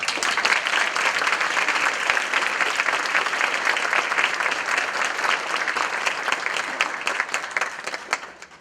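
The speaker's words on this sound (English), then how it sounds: "let's give another round of applause." An audience at a school board meeting gives a long, dense round of applause, loud and steady throughout before it starts tapering off at the end.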